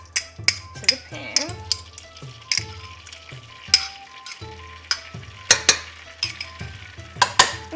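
Beaten organic egg sizzling in hot oil in a pan, a steady fry punctuated by repeated sharp clinks and scrapes of a utensil against the pan.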